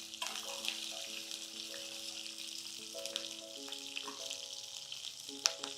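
Large pieces of green chilli fry in oil with a faint, continuous sizzle and occasional light crackles, heard close but quiet, with no voices.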